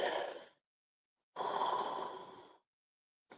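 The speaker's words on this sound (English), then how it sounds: "First time I yawned." A person's yawn, drawn out as two breathy exhalations: a short one, a pause of nearly a second, then a longer, louder, close-up breath lasting over a second, with no talking.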